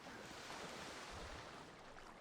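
Waves wash and splash at the water's edge in GTA 5 on the PS3, a steady, soft, continuous surf with no voices.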